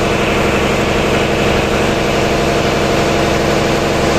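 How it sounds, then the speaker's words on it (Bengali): Six-cylinder diesel engine of a large passenger river launch running close by, a loud, dense, steady rumble with constant vibration and no change in pace. "ছয় সিলিন্ডার বিশিষ্ট ইঞ্জিন"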